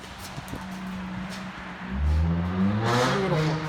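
A 2010 Ford F-150 King Ranch with a Flowmaster Outlaw exhaust (50 series muffler, 3-inch tailpipe, 4-inch rolled tip) idles and then revs once. The exhaust note rises into a deep, throaty burst close up.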